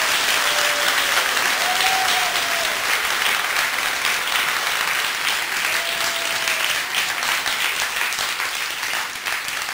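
A church camp Bible study crowd gives a round of applause, a dense, sustained wash of clapping heard close and continuously, fading slightly toward the end.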